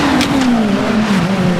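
A GT race car at Oulton Park runs close and loud, its engine a steady high drone that slowly falls in pitch as it heads down toward Old Hall Corner, with no voices.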